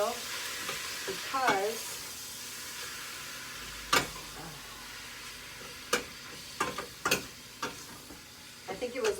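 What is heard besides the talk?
stirring ground beef frying in olive oil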